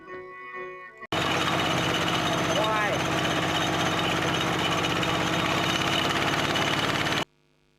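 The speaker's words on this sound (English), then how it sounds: "We hitched a ride back to the guest house on an iron buffalo." Iron buffalo tractor engine carrying passengers along a road by the Mekong, a loud continuous rattling chug that starts abruptly and drones steadily close by, then cuts off.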